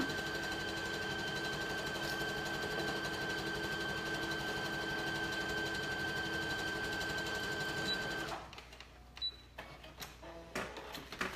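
Sewing machine stitching a pillow cover whirs steadily and close for about eight seconds with a constant motor hum, then stops, leaving a few faint clicks and handling sounds.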